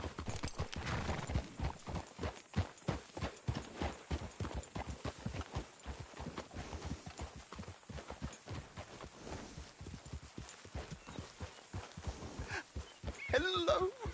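Horse hooves clip-clop at a steady walking pace on a hard road in a western video game, a close, even run of hoof strikes that persists throughout with a faint whinny near the end.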